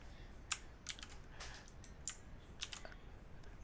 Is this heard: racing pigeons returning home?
no